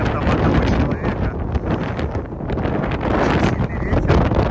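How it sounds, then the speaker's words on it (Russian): Strong wind roars across an open coastal lookout in northern Spain, a loud, continuous gusty rush buffeting the microphone throughout, with no clear speech over it. "Очень сильный ветер."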